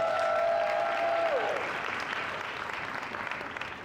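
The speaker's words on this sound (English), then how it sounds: "So first of all, round of applause for Arlan, because I'm so excited to be here" A live audience claps warmly and continuously, opening over a brief high whining tone before the applause carries on alone and slowly eases off.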